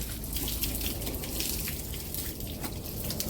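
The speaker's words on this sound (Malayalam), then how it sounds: "ആദ്യം ഒന്ന് വെള്ളം അടിക്കാം" Water sprays with a steady hiss and splatter onto a Toyota Lexus car, close by, rising and falling slightly in strength.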